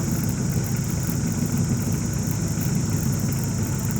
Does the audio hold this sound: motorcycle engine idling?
yes